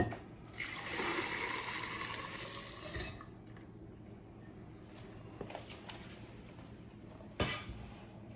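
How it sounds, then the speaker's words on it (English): Hot sweet brine pours steadily over sweet gherkin pickles in a glass jar for a few seconds with a bright splashing rush, then quieter clinks and small knocks of glass follow. "pour it back over the pickles"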